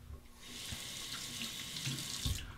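A tap runs steadily into a sink as a straight razor is rinsed under it during a shave, a close, continuous hiss of flowing water with a few brief splashes, and no talking.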